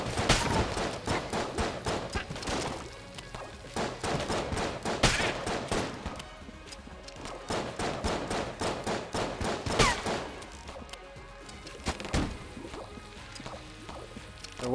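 Enemy gunfire in the video game Enter the Gungeon: rapid, sharp shots in irregular bursts throughout, fairly close and crisp, with a few brief louder impacts.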